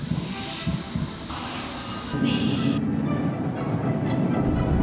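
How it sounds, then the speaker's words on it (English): A passenger train bound for Cardiff rumbles nearby with a steady, broad roar and hiss that swells slightly midway, and no one speaks. "Here's my train that will take me to Cardiff."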